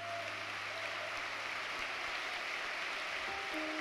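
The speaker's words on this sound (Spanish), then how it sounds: "Pero damos un aplauso aquí a los músicos." A church congregation applauding musicians, a faint, steady wash of clapping heard from a distance, with a low sustained hum underneath.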